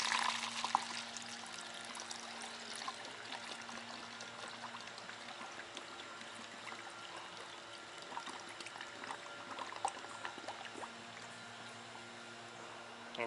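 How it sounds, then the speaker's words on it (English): Griot's foam cannon soap solution being poured through a funnel into an MTM PF22 foam cannon bottle, a soft, steady trickle of liquid that stays faint throughout. "I'm going to pour the solution from the Griots Foam Cannon, which is 2 ounces,"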